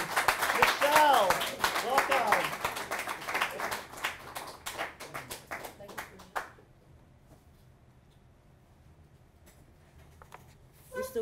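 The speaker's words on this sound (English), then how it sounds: "Let's give a big warm round of applause for Michelle Parkerson!" Audience applause for a speaker at a tribute event, a dense wash of many hands clapping loudly for about six seconds, then fading into quiet room tone, with a brief burst of sound at the very end.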